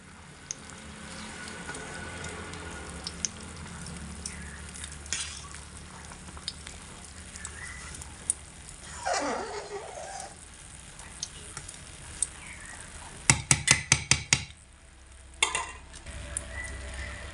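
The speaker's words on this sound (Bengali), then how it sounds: "বেশি ঘেটে নাড়াচাড়া করার দরকার নেই হালকা হাতে একটু নাড়াচাড়া করে নিতে হবে" Khichuri in a pot getting a gentle stir, with a soft continuous simmering sizzle, an occasional light scrape, and a quick burst of sharp clinking taps near the end.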